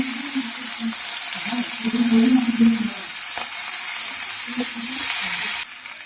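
Chopped onion sizzles loudly in hot oil, a steady bright hiss with low clatters and scrapes as it's stirred in the pan.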